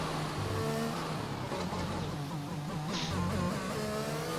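F1 car engine on a flying run in F1 2021 at Abu Dhabi, a steady high-pitched howl with stepped gear changes, held loud and close throughout.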